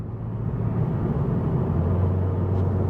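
A SEAT Leon Cupra 300 driving in Cupra mode gives a steady, low engine drone with road rumble, continuous and even in level, with no voices over it.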